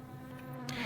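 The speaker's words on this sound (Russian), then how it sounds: "Назойливая муха беспрестанно ползала по стеклу." A fly crawls on window glass at night, giving a close, steady, droning buzz that grows slightly louder with a brief flutter near the end.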